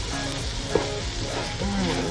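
Tomatoes and mushroom paste sizzle steadily in a hot pan, a close continuous fry with a few light stirring scrapes.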